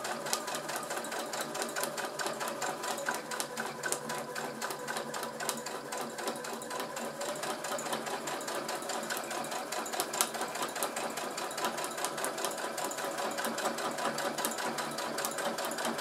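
Continuous rapid chatter of a sewing machine stitching a fabric glasses case, a steady close mechanical whirr with fast regular needle ticks running unbroken and alone, with no voice.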